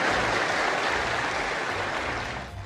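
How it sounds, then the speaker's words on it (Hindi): A packed Ethiopian parliament chamber breaks into sustained applause, a dense steady roar of many hands clapping at once that fades slightly toward the end. "पूरा सदन तालियों की गड़गड़ाहट से गूंज रहा था"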